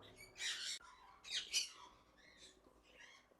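Lory parrots let out a few harsh, shrill squawks and chirps in short bursts, close by, with quiet pauses between.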